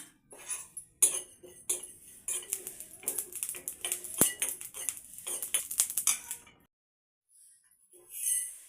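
Coriander seeds are roasted in a metal pan while a spoon scrapes and clinks against it in quick irregular strokes, close and fairly sharp, before falling silent near the end.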